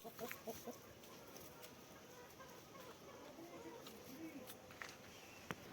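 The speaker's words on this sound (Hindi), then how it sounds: "ये मेरा अपना मुर्गा है।" Soft clucking of a rooster nearby, a few brief calls over quiet background noise with occasional small knocks.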